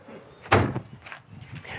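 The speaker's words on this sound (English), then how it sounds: "Door shut good" A single solid thunk of a 1965 Mustang convertible door shutting, close and loud, followed by faint rustling and small knocks.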